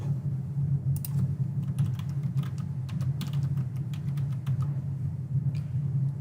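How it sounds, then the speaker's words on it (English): Keys clack on a computer keyboard as a search term is typed into an online research database, a quick uneven run of crisp close taps over a steady low hum. "I'm going to go ahead and type in surveillance cameras."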